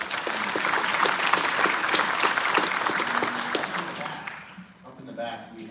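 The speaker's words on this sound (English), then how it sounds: "Please give a round of applause for them." Audience applause at a governor's town hall meeting, a full round of clapping that swells and then fades out near the end, followed by a voice speaking.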